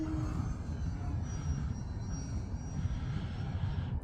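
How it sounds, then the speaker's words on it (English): An RC acrobatic 3D model airplane flies overhead, its small engine and propeller giving a steady, fairly distant drone that swells and fades slightly. "acrobatic plane. It's not really what most people would fly for 3D, but very fun"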